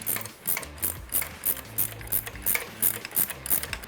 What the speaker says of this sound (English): hold the Allen key holds the shaft from spinning while I tighten the top nut